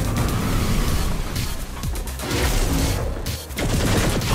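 A cannon in the video game Saints Row: The Third fires continuous heavy blasts and booming explosions with rapid gunfire-like bursts, loud and dense throughout with brief dips.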